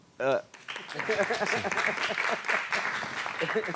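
An audience at an international congress on cities and sustainable transport breaks into applause after a brief voice, the clapping rising quickly and holding as a dense, steady wash with murmuring voices mixed in.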